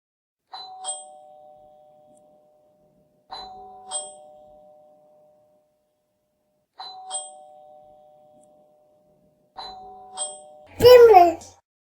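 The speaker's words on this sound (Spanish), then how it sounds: "Timbre." Four rings of a ding-dong doorbell, each a clear two-tone chime spaced a few seconds apart, followed by a brief loud burst of a voice at the end.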